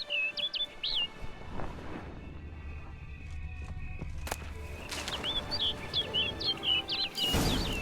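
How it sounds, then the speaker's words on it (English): Birds chirp in The Witcher 3 game: quick twittering calls at the start and again more loudly later, with footsteps, soft thuds and a bang between them. "Looks like the bird's leading me somewhere."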